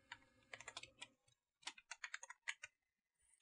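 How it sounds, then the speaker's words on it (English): Quick text being typed on a computer keyboard: bursts of close, crisp keystrokes separated by short pauses, with nobody talking. "I'll go ahead and type in some quick text here"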